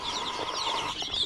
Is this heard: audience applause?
no